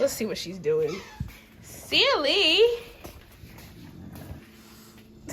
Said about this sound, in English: that's just my dog back there making a lot of noise, playing with her toy